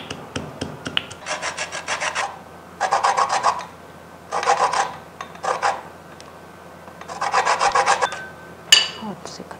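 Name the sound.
zesting a lemon on a grater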